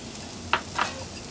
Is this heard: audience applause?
no